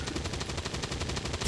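Pistol shots from XCOM 2: War of the Chosen, a steady run of repeated sharp reports across the whole stretch, with a heavier thump right at the end and no talking.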